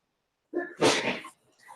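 A single sneeze, close and fairly loud, with a short breathy intake before it and a faint trailing sound after.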